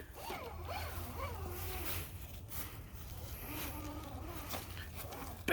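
Axial SCX10.2 Deadbolt RC crawler on Pro-Line rims and tires climbing a hill, its electric motor giving a steady buzzing whine with rising and falling pitch, fairly close, alongside crunching terrain noise and a voice speaking briefly.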